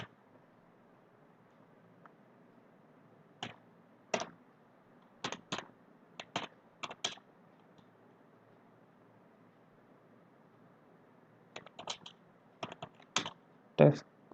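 Keys on a computer keyboard are tapped in short, scattered bursts of crisp clicks while text is typed into an editor, close and clear against a quiet, hissing background.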